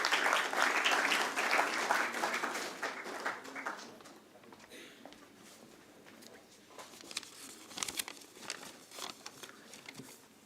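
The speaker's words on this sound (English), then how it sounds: "Let's welcome him on stage with a round of applause." An audience at a stock exchange listing ceremony for an insurance company applauds as a speaker comes on stage; dense clapping fades after about four seconds into scattered claps, footsteps and small taps.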